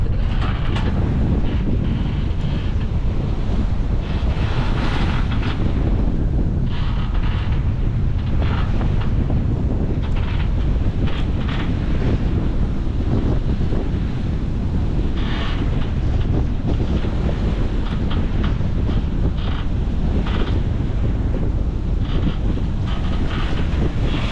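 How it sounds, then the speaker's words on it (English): Roughly 30-knot wind at sea aboard a sailboat roars continuously and loudly across the microphone, mixed with rushing water and swell, with no break for the whole stretch. "Wind has picked up, so we've got about 30 knots now"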